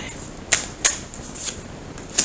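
Tarot cards being shuffled by hand, a series of sharp, close flicks and riffles spaced irregularly over a quiet background, with no talking.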